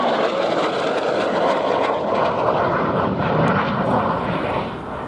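A Eurofighter Typhoon jet makes its final flypast at an air show, a loud sustained roar of engine noise dominating throughout before easing slightly at the end.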